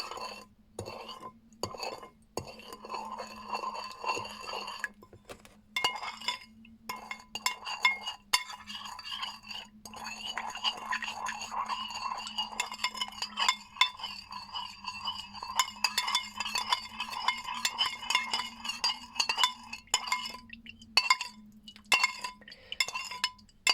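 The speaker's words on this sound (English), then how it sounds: "Stir well for later use." A spoon stirring sauce in a bowl, repeated light clinks of metal against the bowl over a faint steady hum, close and quiet, with no talking.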